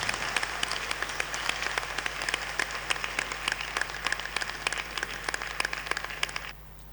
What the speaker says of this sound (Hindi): तो थोड़ा तालियां ज़रूर बजाइएगा